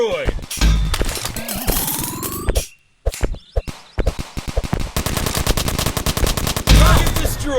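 Assault rifle gunfire in the Jack Street video game: rapid automatic bursts, a brief silent gap, then more clustered bursts and single shots, loud and close with a voice heard faintly among them.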